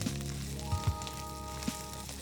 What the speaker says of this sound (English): Now cook the ginger garlic paste till the rawness is gone and onion is golden brown in color.